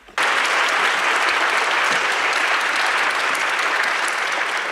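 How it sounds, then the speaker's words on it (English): A conference audience bursts into loud, sustained applause for a panel, starting abruptly and holding at full strength with dense, even clapping throughout. "I think that they deserve a round of applause."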